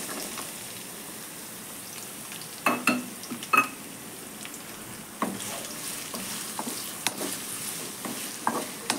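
Onions and curry leaves fry over a medium flame in a pan for a traditional Indian prawn fry. A soft, steady sizzle runs throughout, broken by a few sharp stirring scrapes and clinks, with no speech.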